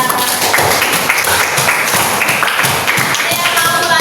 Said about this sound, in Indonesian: Tepuk tangan untuk Dija.